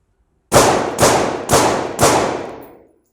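Four sharp gunshots ring out during a close-quarters shooting drill, evenly spaced about half a second apart, each loud and close with a short ringing decay, then silence.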